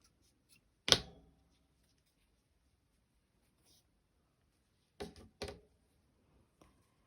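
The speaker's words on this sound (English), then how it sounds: "then I can just cut my yarn and fasten off." Crochet yarn is snipped with scissors in two quick, close cuts after a long quiet pause, preceded by an earlier sharp click and followed by a faint tap near the end.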